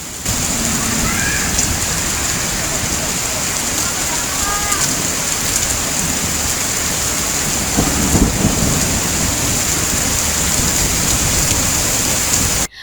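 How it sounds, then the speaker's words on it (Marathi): Steady, heavy unseasonal rain pours down on Amravati city in a constant hiss, with a low rumble of thunder underneath. "अमरावती शहर आणि परिसरात अवकाळी पावसाने हजेरी लावली आहे."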